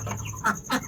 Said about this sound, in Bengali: এখানে দেশি মুরগি আর বাচ্চা ছেড়ে দিয়েছি, খাবার দিয়েছি, খাচ্ছে